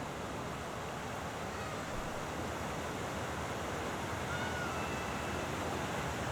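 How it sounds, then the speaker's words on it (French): An artificial waterfall in a city park in Pittsburgh gives a steady broadband rush of falling water, constant and fairly close, with no voices. "c'est pas une fontaine, c'est plutôt comme une cascade artificielle ici"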